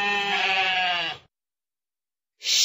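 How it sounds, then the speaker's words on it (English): A sheep bleats in a children's animal matching video game, one long wavering harmonic baa lasting about a second, loud and clear with no talk, followed by silence and the start of another sound. "Sheep."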